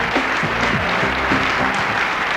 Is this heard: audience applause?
yes